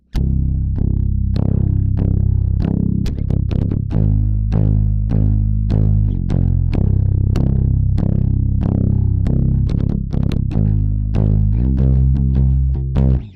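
Heavy, distorted bass guitar plays a song's bridge, repeated plucked low notes in a steady rhythm with slides and chord shifts, loud and close with no talking.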